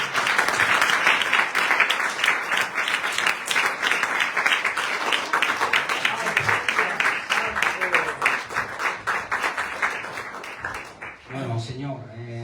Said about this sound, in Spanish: Demos palmas al Señor.